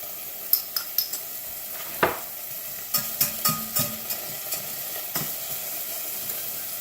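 Cabernet Franc and shallots sizzle in a pan for a bordelaise sauce, a quiet steady fry broken by scattered clinks and scrapes of a utensil stirring against the pan.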